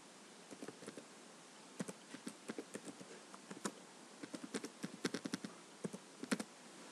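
Light tapping on a computer keyboard as an email address is entered to sign in, irregular bursts of quiet keystrokes close to the microphone over faint background hiss, with no voices.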